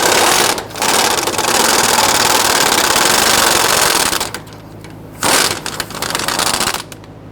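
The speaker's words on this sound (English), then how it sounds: "I'm going to switch over to our air tools to speed things up a little bit. And we'll go ahead and remove the bolt on the other side." A pneumatic impact tool rattles loose a bolt on a 2005-2021 Nissan Frontier 4.0L V6 during fuel pump module replacement, running in long loud sustained bursts with brief pauses between them, close and alone.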